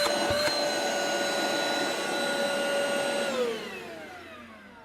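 A Craftsman 20V cordless inflator in blower-vacuum mode runs with a steady, loud motor whine and airflow, then the pitch slides down as it begins spinning down near the end.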